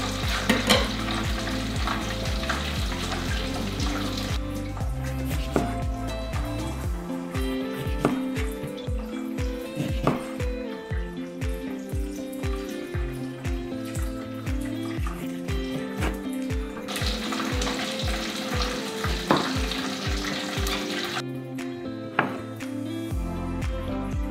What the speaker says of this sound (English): basically we just repeat that over and over until we have all the fish fried